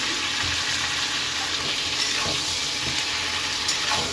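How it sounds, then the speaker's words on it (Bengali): Cauliflower pieces with onion are stirred and fried in oil in a pan for a Bengali rohu fish dish, giving a steady, close sizzle with a watery hiss throughout and faint stirring scrapes, no talking. "দু এক মিনিট কপিটা একটু নাড়াচাড়া করে নেবো তেল পেঁয়াজের মধ্যে"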